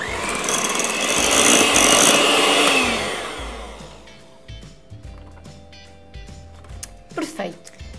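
An electric hand mixer whips cream together with mascarpone, running as a loud, steady motor whir for about three seconds before cutting out, followed by quieter clattering and scraping.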